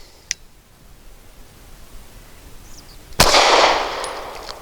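Walther P99AS pistol firing 138 grain Syntex rounds: a faint click early on, then a single loud, close gunshot near 3.2 seconds whose bright blast rings out and decays over the final second.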